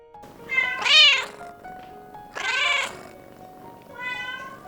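A talkative Bengal cat gives three clear, drawn-out meows close by, separated by short pauses, the last one quieter.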